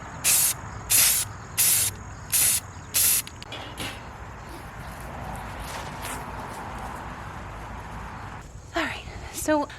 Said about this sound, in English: I think I decided I'm going to spray paint these shelves white.